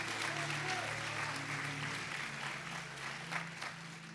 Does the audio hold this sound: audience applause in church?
yes